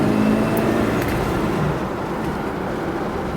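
A 1976 Cadillac Seville engine runs with a steady, loud low rumble, heard close up and alone.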